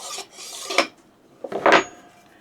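A draw knife drawn across a 1200 grit sharpening stone makes two brief, close rasping strokes separated by a short pause.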